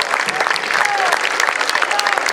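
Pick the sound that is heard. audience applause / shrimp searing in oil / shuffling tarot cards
audience applause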